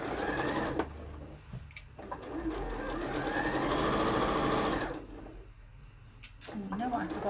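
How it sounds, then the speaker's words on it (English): A sewing machine stitches pockets onto a garment in fast, buzzing runs close up, pausing briefly between bursts, while a person talks over it. "just sew your pockets on slightly inside it, because you want your pockets to sit inside your garment"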